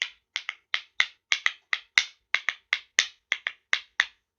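A person vocally imitates frog calls for children, producing a run of about sixteen short, sharp clicking croaks in an uneven rhythm, close and clear with no other talk.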